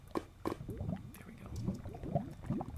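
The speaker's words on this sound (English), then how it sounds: "it puts the bucket of lava right. Whoops. Puts the bucket of lava right into the tank." Lava poured from a bucket into a tank in modded Minecraft (Feed The Beast), a thick gurgling, bubbling liquid sound with soft squishy pops repeating through the short stretch, close and moderately loud.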